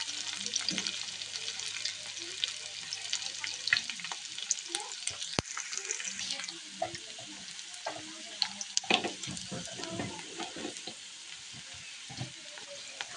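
Onion frying in oil for a chicken curry, a continuous close sizzle broken by frequent scraping and clattering as it is stirred, with a single sharp knock partway through.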